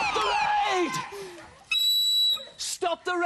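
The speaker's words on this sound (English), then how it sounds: "It was, in fact, a penny whistle." A penny whistle on a game show set gives short shrill toots amid lively studio noise and excited speech, with a loud sustained electronic buzzer tone in the middle.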